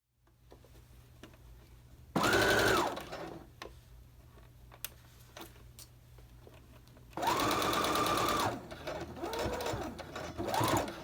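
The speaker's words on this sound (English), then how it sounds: "Go ahead and lower your needle, begin sewing and backstitch, and continue sewing until you get to the other end and backstitch again." Sewing machine top stitching coat fabric, with two sustained whirring runs of rapid needle stitching and a few shorter bursts, separated by quiet clicks and handling sounds, close and loud.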